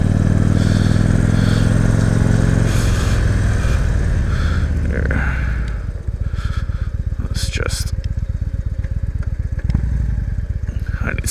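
Fully loaded motorcycle riding the Tail of the Dragon at Deal's Gap, its engine loud and close with a steady drone, then dropping into a rapid lumpy idle-like putter with brief revs and clatter.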